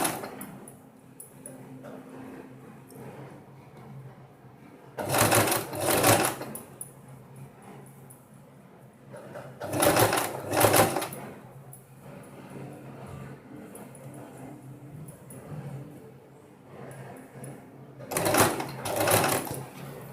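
Sewing machine stitching a frill onto a blouse, running in three loud bursts of a second or two each, separated by quiet pauses.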